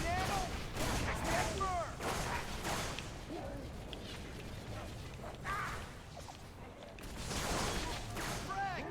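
Gunfire in a video game comes in scattered shots and bursts with whooshing effects over a steady, fairly quiet game backdrop.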